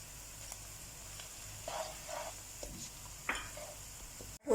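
Bay leaf and whole garam masala dropped into hot oil, a soft steady sizzle broken by a few stirring scrapes and small clinks of a pan, ending in a sudden louder clatter.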